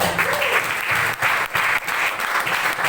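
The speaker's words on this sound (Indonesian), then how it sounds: "Sekali lagi tepuk tangan." Audience applause fills a church training session, a dense, steady clapping from a crowd that swells and dips in waves throughout.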